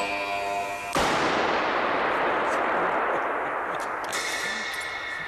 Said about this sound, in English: they're going to let me use their 2 million volt impulse generator to make lightning at the touch of a button.